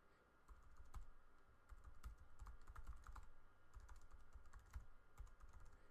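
Keys clatter on a computer keyboard in quick irregular bursts of typing, close and fairly quiet, with no voices over it.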